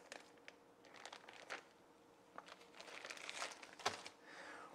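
Plastic bag crinkling and rustling as two lengths of hose and a small inline pre-filter are pulled out, quiet and close, in irregular bursts with a sharper crackle near the end.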